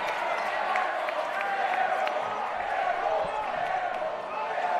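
Home crowd at a Columbia City boys high school basketball game against New Haven, a steady roar of jeering and cheering filling the gym, with occasional ball bounces and indistinct voices mixed in.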